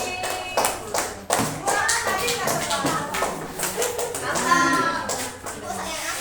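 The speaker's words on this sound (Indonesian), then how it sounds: "Oke, tepuk tangan buat Devi." A classroom of pupils claps for a classmate, brisk uneven hand claps repeating through the whole stretch with children's voices and talk mixed in.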